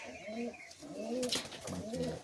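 Long-flying pigeons at a home loft give soft, repeated throaty coos in short rhythmic phrases, heard close but quietly, with a faint rustle near the middle.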